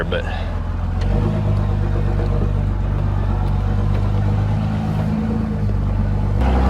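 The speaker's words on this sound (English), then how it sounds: "And we got her in 4 low, and we're going to have to take it real slow." Truck crawling slowly up a rough hill in four-wheel-drive low, its engine giving a loud, steady low rumble that holds for several seconds with a slight swell near the end, while someone speaks briefly over it.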